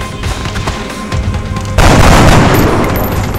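A loud gunshot from XCOM: Enemy Unknown, a sharp booming report that cuts in partway through and rings out over the remaining seconds after some quieter game sounds.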